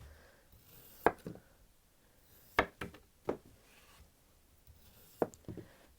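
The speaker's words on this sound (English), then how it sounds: "we want to cut that into a kind of a circular shape. So I'm just going to take the corners off." A knife trims the corners off a wet block of Oasis floral foam, giving a few sharp, close, separate cutting strokes with quiet pauses between them.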